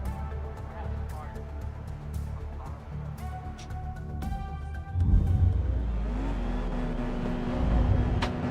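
A race car engine revving through one lap of a racing video game, played on a Thrustmaster T598 wheel. The steady engine drone surges louder and deeper about halfway through, then holds a strong, rising pitch to the end.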